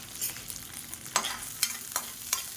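Dry red chillies, green chillies and ginger pieces fry softly in a pan, a faint sizzle broken by a few sharp stirring scrapes.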